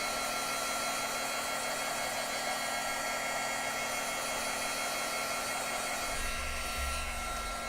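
A hair dryer runs steadily and loudly throughout, drying a handmade shaker tag craft, with a constant whooshing airflow and no voices.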